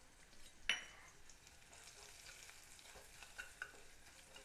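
Chilli powder and sambar powder frying in hot oil for beetroot poriyal, a low steady sizzle with one sharp clink of a utensil early on and light stirring scrapes, close and quiet with no talk.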